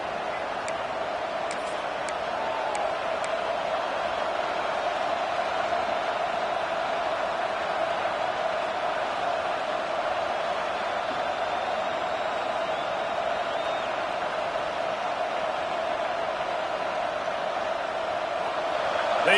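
A packed stadium crowd at a Michigan Wolverines college football game cheers and roars in a steady, sustained wall of noise from a distance, with a few sharp clicks early on.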